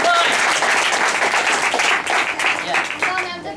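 An audience at a debate competition claps in a dense, lively burst that thins toward the end, with voices heard through it.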